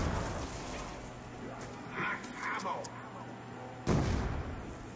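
Gunfire from a zombies-mode video game, with a sharp shot burst near the end and softer reports earlier, heard under a busy game mix while people talk.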